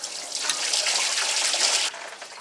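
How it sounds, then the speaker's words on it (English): Coolant running from a Duramax LLY 6.6L diesel engine into a drain pan during water pump replacement, a steady loud hissing splash that cuts to a lighter flow near the end. "I've got my drain pan underneath there again because I do believe this is going to drip"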